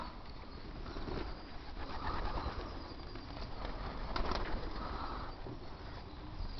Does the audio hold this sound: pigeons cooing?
yes